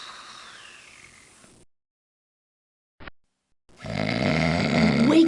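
A man snoring in rough, noisy breaths: one faint drawn-out snore fades into silence, a brief snort follows, and then a louder, harsher snore rises near the end.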